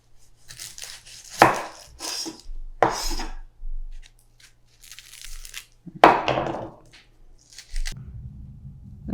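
A knife works through shallots on a cutting board in scattered bursts of crisp cutting and crunching, separated by quiet gaps, close and fairly loud with no talking.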